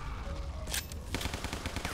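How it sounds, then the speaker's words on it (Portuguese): Sustained machine gun fire in a violent shooter video game, rapid dense bursts of shots filling the stretch with sharp cracks and blasts, loud and close. "Uma metralhadora aqui."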